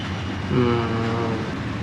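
Train sounds from a train-driving video game: a steady rumbling rail drone with a brief tonal horn-like swell midway, continuous and moderately loud over about two seconds, with no talking.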